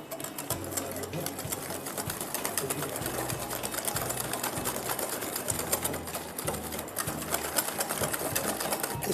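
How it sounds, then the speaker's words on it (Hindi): Eggs being whisked by hand with caster sugar and brown sugar in a bowl, making a rapid, steady clatter of the whisk against the bowl that goes on throughout. "हैंड विस्क से जो है ना वो आराम से आप इसको मिक्स कर सकते हैं।"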